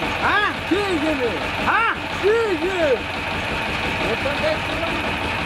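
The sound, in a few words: machine engine running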